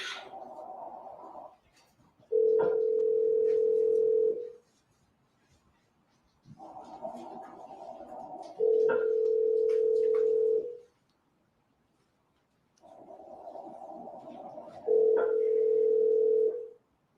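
Recorded phone call played back: three rounds of a ringback tone, each a burst of buzzy ringing followed by a steady electronic tone, separated by silent gaps, before reaching voicemail.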